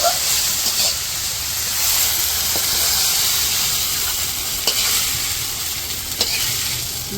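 Okra frying and being stirred in a pan over a village kitchen fire, a steady loud sizzle and hiss with occasional scraping of the spatula against the pan, continuous throughout with no voices.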